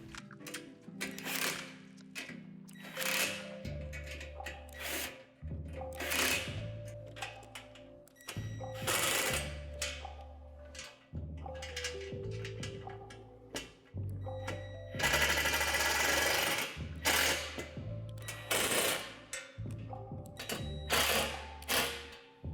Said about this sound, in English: Now tighten all the hardware.